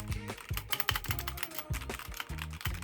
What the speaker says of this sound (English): Havit mechanical gaming keyboard.